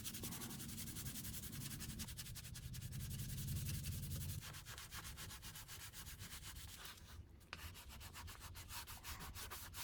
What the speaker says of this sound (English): we can continue to fill and to sand to contour at